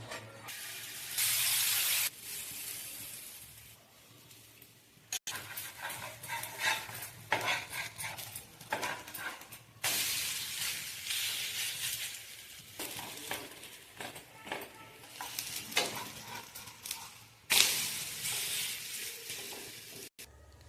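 Rava besan poli cooks on an oiled tawa, with spatula scrapes, soft sizzling and clinks of utensils in bursts across about twenty seconds, close and moderately loud, with no talking.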